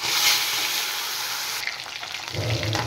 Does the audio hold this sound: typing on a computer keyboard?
no